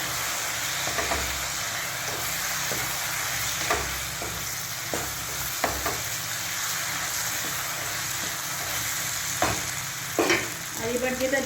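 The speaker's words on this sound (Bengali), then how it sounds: "চিকেনটাকে দিয়ে ভালো করে নাড়ানাড়ি করতে করতেই যেটা দেবো সেটা হচ্ছে একটু সোয়া সস দিয়ে দেবো" Chicken pieces fry with soy sauce in a pan, a steady loud sizzle punctuated by repeated scraping stirs, with a sharper splutter near the end and no voices.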